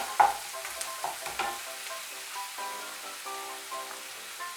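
Eggplant stirred and frying in a pan for a traditional Bengali dish, with soft scraping stirs near the start and a steady low sizzle throughout, fairly quiet and with no talk.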